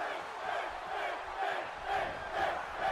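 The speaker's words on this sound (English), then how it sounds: "you can listen to the crowd as they're chanting Finn, Finn, Finn." A video game arena crowd in WWE 2K17 chants a wrestler's name during a match, a steady rhythmic roar rising and falling in repeated waves throughout.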